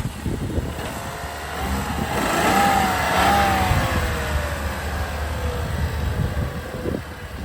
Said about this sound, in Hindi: मैं आपको इसके इंजन का भी साउंड एक्सटीरियर